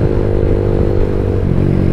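Modenas RFS150i motorcycle with a Racing Line aftermarket exhaust runs loud and close with a deep, throbbing exhaust note held steady, without voices.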